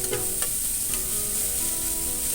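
Mustard greens with garlic frying in a pan, a steady close sizzle with light stirring scrapes near the start, no talking.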